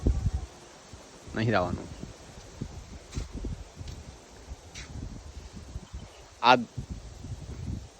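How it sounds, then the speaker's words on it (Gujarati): Wind gusts steadily outdoors in light rain, stirring leaves into a continuous rustle, with one louder surge near the end; people talk over it. "પવન છે, આ પવને નુકસાન કર્યું"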